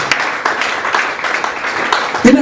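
A church congregation applauding during a Sunday worship service, a continuous mid-level patter of many hands clapping, with voices faintly mixed in and a brief vocal sound at the end.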